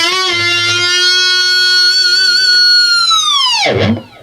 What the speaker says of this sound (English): Whammy, vibrato, dive bomb.